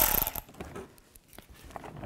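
Ratchet with an 8mm socket backing out shield screws on a 2003-10 BMW X3, a close burst of clicks followed by quieter, slower ratcheting.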